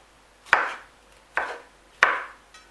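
A knife chops pineapple into small pieces on a board, three sharp, evenly spaced thuds about a second apart with a faint fourth tap at the end, close and clear with no talking.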